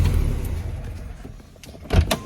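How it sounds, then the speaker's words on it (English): A car fitted with a Solex 34 PICT carburetor is switched off at close range, its low engine rumble dying away and followed by a few small clicks and knocks. "I'm gonna go ahead and shut the car off"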